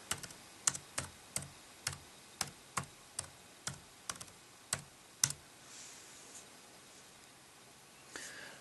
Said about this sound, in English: if you do want to type, you're going to have to use your keyboard